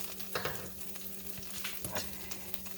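A utensil scrapes browned bits loose from the bottom of a skillet used to fry beef round steak, and the pan drippings sizzle under it in short, uneven strokes heard up close with no talking.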